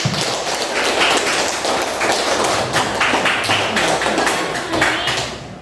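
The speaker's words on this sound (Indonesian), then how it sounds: "Kasih aplaus untuk Jana." Loud classroom applause fills the room, dense overlapping claps and taps from many students continuing steadily, close and busy with no talk over it.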